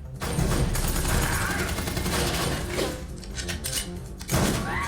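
Gunfire from an episode of the Cowboy Bebop anime, a dense fusillade of shots and impacts running throughout at moderate loudness, with a sharp burst near the end.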